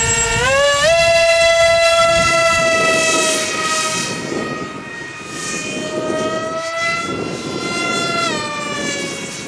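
An FF-117V2 RC model aircraft on its maiden flight makes a loud, close electric motor whine that slides up and down in pitch as the throttle changes, running continuously with rushing wind-like noise.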